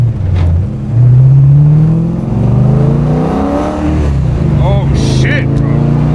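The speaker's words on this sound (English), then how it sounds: "his insane BMW E36 M3 with the LS2? Built LS2. 600 horsepower." A BMW E36 M3 with a built 660-horsepower 7.1-liter LS2 V8 revs hard and close, its deep engine note climbing and falling in repeated pulls before settling into a steady throb, with a voice briefly over it.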